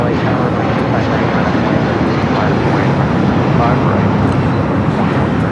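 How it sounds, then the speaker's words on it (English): United Airlines Boeing 757-200 taking off from LAX runway 25 bound for Washington Dulles, a constant loud engine roar filling the stretch, with voices murmuring faintly beneath it. "2667 taking off to Washington Dulles on the 757-200"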